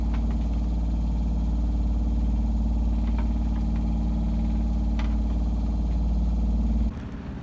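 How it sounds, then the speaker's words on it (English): A sailboat's inboard engine runs steadily at a low, droning idle while under way from Italy to Greece, loud and close, with a few faint clicks over it before it cuts out near the end. "I think I shall have to start the engine for a couple of hours"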